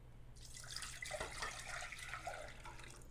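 Purified water runs steadily into a pot or container for elderberry syrup, a soft continuous pouring stream with slight splashing, fairly quiet and close, with no voices.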